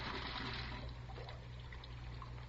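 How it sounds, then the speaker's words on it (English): Water runs from a tap into a sink in a steady, close rushing trickle that continues throughout without any talk. "I let the water run for a minute"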